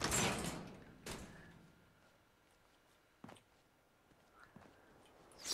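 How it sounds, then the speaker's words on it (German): A door opening in the Fallout 4 video game: a loud burst at the start, then a sharp thud near one second and fainter knocks and clunks later, all without speech. "Ich möchte diese Tür öffnen."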